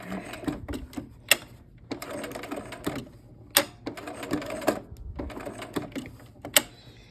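Domestic sewing machine stitching with needle-down while quilting a block, bursts of rapid needle chatter broken by brief pauses at pivots, close and moderately loud, no voices.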